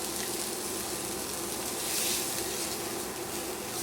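Onion sizzling in olive oil in a skillet over medium-high heat, a steady, even crackle and hiss from close by that swells slightly midway, with no talking.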